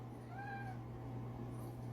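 A domestic cat gives a single clear, close meow with a rising and falling pitch, over a steady low electrical hum, with no talking.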